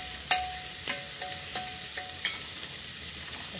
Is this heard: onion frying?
yes